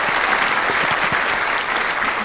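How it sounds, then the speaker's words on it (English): Loud, dense round of applause from a live audience, a continuous hiss of many hands clapping at steady volume from start to finish, with no voices rising above it. "So a round of applause to you."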